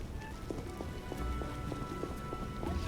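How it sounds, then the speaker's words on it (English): Steady rain pours in The Witcher video game, a constant hiss of falling drops with a regular, rhythmic clopping like a horse's hooves running beneath it, no voices. "Raining cats and dogs."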